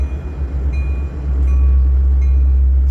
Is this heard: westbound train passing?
yes